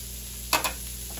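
Green beans stirred in a hot pan, with two quick scraping stir strokes rising briefly over a steady low sizzle, close up and with no talking.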